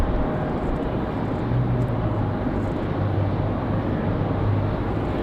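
A departing airliner roars steadily at Raleigh Durham airport, a broad continuous jet rumble blended with gusty wind noise on the microphone, with no talk over it.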